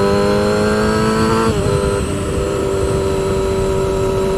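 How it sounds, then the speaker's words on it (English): A motorcycle engine at steady high revs holds a strong buzzing tone, then the throttle briefly drops off during a clutchless upshift and the engine settles into a lower, steady drone with heavy wind noise. "And you hear the throttle drop off."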